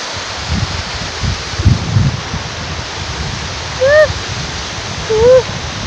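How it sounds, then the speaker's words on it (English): A waterfall in a Zimbabwean village setting gives a steady, broad rushing roar throughout, with a few brief whistling calls rising above it near the end. "Yes, the waterfalls."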